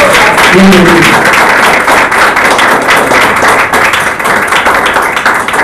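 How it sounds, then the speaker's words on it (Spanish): A church congregation claps loudly during a Spanish-language worship service, a dense sustained burst of many hands close and strong, with a few brief tones and voices mixed in early on. "Un fuerte aplauso a Dios."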